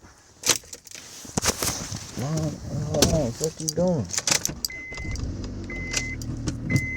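Sounds of a car being moved: keys jangle, a car door and electric window mechanisms whir and thunk close by, mixed with a person talking loudly over them.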